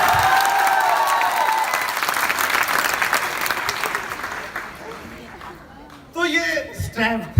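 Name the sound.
audience applause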